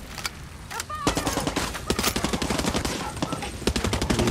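Rapid video-game gunfire from Far Cry 6, a dense run of close, loud shots crackling for several seconds with a brief quieter lead-in.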